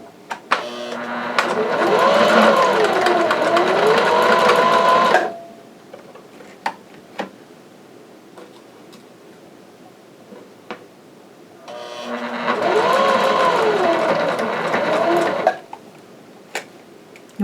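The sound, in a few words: sewing machine zigzag stitching a wire into a mask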